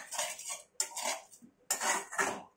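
A metal spoon scrapes and clinks against a pan as fish curry spice paste is stirred into water, in several quick bursts separated by short pauses, close and fairly quiet with no talking.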